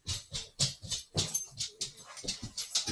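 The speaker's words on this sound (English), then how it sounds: "Sorry, that's my dog." A pet dog whimpers and whines indoors in a string of short, close, rhythmic cries with small breathy yips between them, heard alone without talk.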